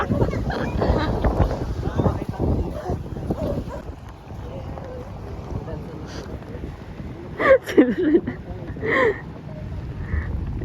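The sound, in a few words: boat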